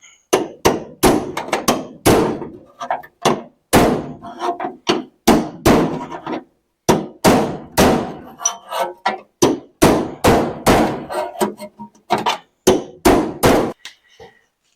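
Repeated hammer blows on the steel sill of an MGA sports car under repair, loud close metallic thwacks in irregular bursts with brief pauses, no talking.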